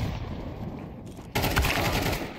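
Rapid automatic gunfire in a shooter video game, a dense rattling burst that jumps louder partway through and continues steadily to the end.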